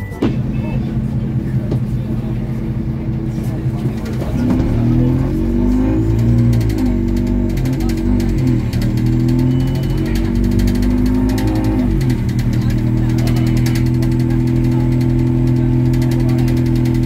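A bus engine runs while riding, a steady low mid-pitched hum that rises in pitch as it accelerates midway, then settles back to a constant drone. Voices sit faintly underneath.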